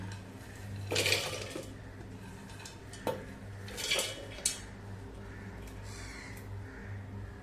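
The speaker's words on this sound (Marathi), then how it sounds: "आता हे सगळं साहित्य मिक्सरच्या भांड्यामध्ये घेऊया." Ingredients for a soft, lacy moong dal breakfast batter go into a mixer jar: a few clinks and knocks of items dropping into the container, with soft background hum and a crow cawing in the distance.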